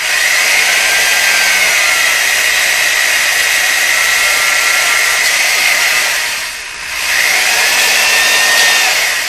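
Power tool grinding soft rubber on a Viking RCS633 console drive traction part, a loud steady whine running continuously with a brief dip near the end before resuming.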